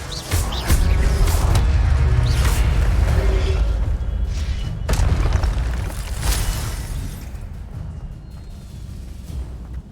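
A fire spell is cast in Hogwarts Legacy, heard as loud, dense booming bursts over a continuous rumble. A few sharp cracks stand out across the stretch.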